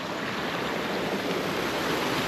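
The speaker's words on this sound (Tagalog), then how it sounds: "Yan yung source ng tubig." Hot spring water pouring and flowing from its source at Jumao-as Hot Spring in Negros Oriental, a steady, loud rushing wash with no pauses, close by and alone.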